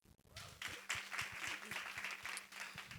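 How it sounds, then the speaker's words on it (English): An audience at a music industry panel discussion claps for a woman panelist, a steady, fairly quiet patter of applause lasting about three seconds. "Give her a round of applause."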